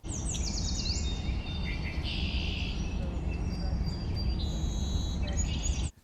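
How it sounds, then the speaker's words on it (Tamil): Birds chirp and whistle in high, thin trills over a steady rushing background noise, moderately distant. "பறவைகளுடைய ஒலிகள் கூட நம்மை உற்சாகத்தில் எழுப்புமா"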